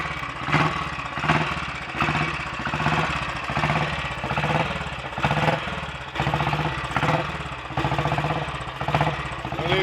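A Royal Enfield Bullet 500 motorcycle single-cylinder engine, with correctly set ignition timing, runs steadily at a loud, close idle, its even thumping pulses rising now and then.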